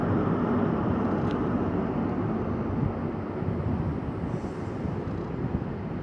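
Great Western Railway train with power car 43185 arrives at a station, a steady, loud rolling rumble of wheels and engine that persists throughout with a brief faint squeal early on and no talking.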